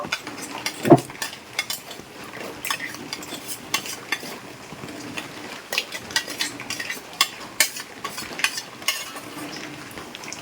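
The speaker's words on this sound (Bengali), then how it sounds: "এরপর আমি নারকেল কোড়াগুলো কড়াইয়ের মধ্যে দিয়ে দেব" Grated coconut tipped into a wok and stirred for coconut naru, giving close scraping and clinking strokes with a soft sizzle underneath, repeated irregularly throughout without talk.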